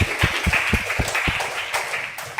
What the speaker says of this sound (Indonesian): Oke, cukup tepuk tangan untuk semuanya.